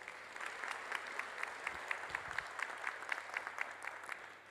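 Audience applause at a county board of supervisors special meeting in a hall, steady moderate clapping from a crowd lasting a few seconds and fading slightly at the end.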